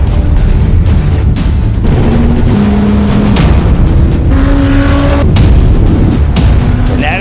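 A 2010 Dodge Viper ACR-X race car drives on a track, its loud V10 engine droning continuously near the microphone, rising and shifting through gears with brief lifts between pulls.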